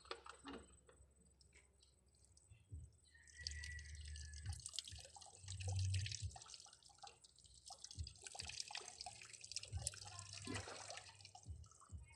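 Water drips into a container in a Filipino home, sounding as faint, scattered drops over a low background hum and rustle.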